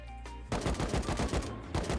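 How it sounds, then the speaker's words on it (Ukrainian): Rifle gunfire in the survival game Rust rings out as a rapid run of loud, sharp cracks, with a quiet lull before the shots begin and then a burst of reports close together. "з болта стріляють, я в шокі"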